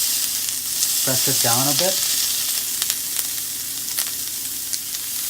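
Lobster sears in a smoking hot pan with chilli garlic butter, making a loud continuous sizzle with occasional crackles. A voice speaks briefly near the start over the frying.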